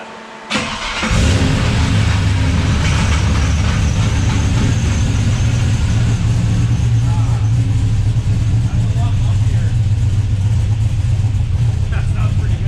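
An LS V8 with a freshly swapped cam fires up after a brief crank, then settles into a loud, deep, steady idle with a lumpy rumble, people talking over it.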